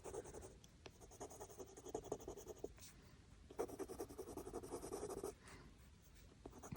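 A wax coloured pencil scratches softly across CreateSpace colouring-book paper in steady back-and-forth strokes, faint and close, with a couple of brief pauses.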